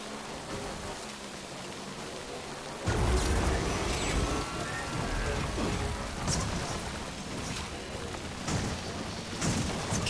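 Rain falling in Death Stranding Director's Cut, a steady hiss of downpour that grows louder partway through, with low rumbles and someone talking over it.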